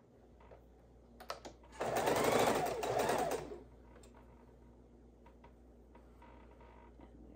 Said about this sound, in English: Sewing row one together, making sure the project comes so it doesn't torque